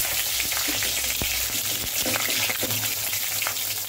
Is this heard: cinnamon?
yes